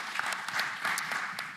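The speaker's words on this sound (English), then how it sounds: "That is worthy of a clap for sure" A crowd at a faith festival rally claps briefly, a short dense burst of applause held steady for under two seconds.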